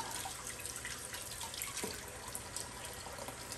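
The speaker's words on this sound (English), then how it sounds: "All you really need to do is soak it on your cleaning day and rinse it out real good" CPAP mask parts are rinsed under a running tap, a constant, fairly quiet stream of water with slight splashing and dripping and no talk.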